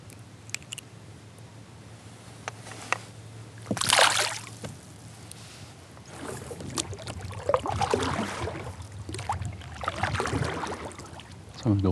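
A kayak paddles through shallow water while crappie fishing in spring. Paddle strokes splash and slosh intermittently, with drips and light water movement close by. A faint ambient background sits underneath.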